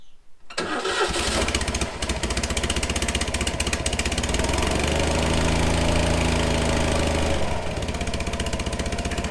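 A Citroen 2CV engine with a repaired exhaust manifold cranks, catches on a little choke and settles into a loud, steady, close idle with a throbbing beat that runs throughout.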